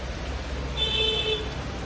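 Steady rain hisses down on a surface, with a brief faint tone passing through the middle and no talking.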